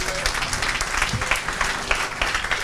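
A church congregation applauds and cheers Jesus in steady, dense clapping that carries on throughout, with some voices mixed into the crowd noise.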